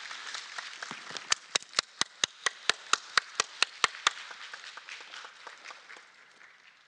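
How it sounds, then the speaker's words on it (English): Meeting participants at a review meeting on a national report under the disability rights convention applaud, starting as scattered claps, building into a brief run of sharp, evenly spaced loud claps, then fading to light scattered clapping. "give ourselves a huge clap"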